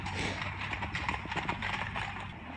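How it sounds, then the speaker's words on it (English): Several horses clip-clop steadily at a walk in a rural countryside setting, a continuous patter of hoofbeats with a low background hum throughout. "some horses."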